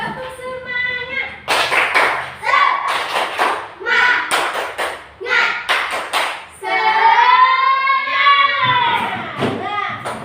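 A class of students chants "tepuk semangat" together while clapping out a quick, rhythmic spirit-clap pattern in bursts, loud and close, pausing between phrases.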